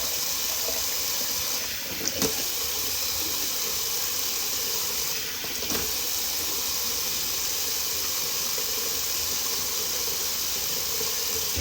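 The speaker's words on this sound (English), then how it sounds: "let's do a little cold water rinse" Cold tap water running steadily into a bathroom sink during a face rinse after shaving, a constant close hiss with a couple of brief splashes and knocks.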